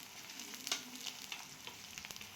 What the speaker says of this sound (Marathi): मस्त शेंगदाणे पण परतून घ्यायचे